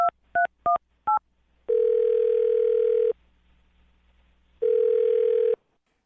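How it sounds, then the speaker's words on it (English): A telephone call is dialed during a morning radio show: four quick keypad beeps, then two long, steady ringing tones separated by a pause, clean and close with no talking. "I'm dialing the phone number."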